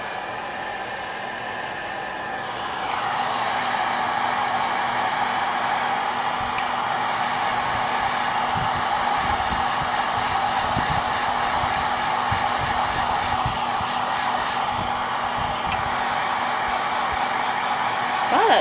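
A hair dryer switches on and blows on fabric dyed with rose-petal blush, giving a loud, steady broadband whoosh that holds constant for over fifteen seconds.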